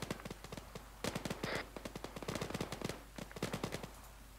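Gunfire from the video game Arma 3: rapid, fairly close bursts of automatic shots with a few single cracks, fired in irregular clusters over a steady low background hum.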